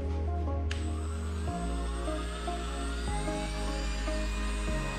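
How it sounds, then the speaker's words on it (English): A Dremel rotary tool spins up against the tire of a Traxxas XO-1 RC car, giving a thin, steady high-pitched whine over a low hum, with the motor's pitch shifting in a few abrupt steps. "let me go ahead and get my Dremel"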